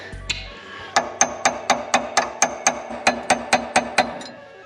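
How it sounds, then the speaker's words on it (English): A hammer strikes a metal punch about fifteen times in a steady, evenly spaced rhythm, driving a nut into a small indent during axle work in a garage; the ringing blows are loud and close, with no talking. "punch in the nut in the little indent"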